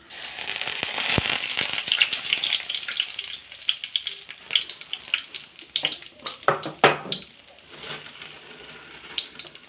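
Cumin seeds crackle and sizzle in hot oil in a home kitchen pan, a steady frying hiss with sharp popping bursts and a few louder spits toward the end, close and with no talk.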